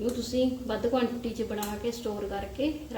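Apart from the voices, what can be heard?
No everyday noise stands out behind the speech.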